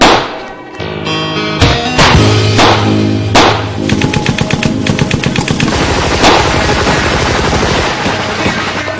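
Soldiers of a troop fire their guns together in a loud, close fusillade of sharp cracks and rapid bursts that overlap and keep going steadily.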